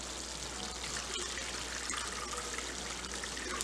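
Water is poured into a pan of simmering potato and carrot curry on a gas stove, a steady close trickle and splash running without pause.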